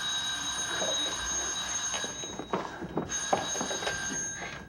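A telephone rings through an outgoing call placed in a home drama scene, a steady electronic ringing tone that holds for the whole stretch with faint handling clatter underneath.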